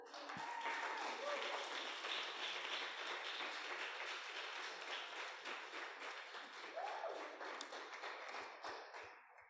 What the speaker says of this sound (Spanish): Y ahí era una oportunidad para que le dieras un fuerte aplauso a Dios.